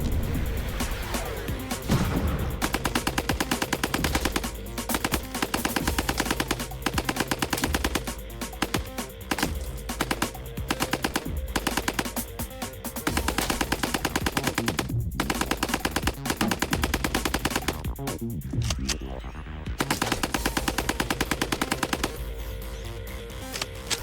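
An M2 heavy machine gun fires sustained bursts of loud, rapid, evenly spaced shots, continuous and overwhelming for most of the span with only brief pauses, heard alone and close.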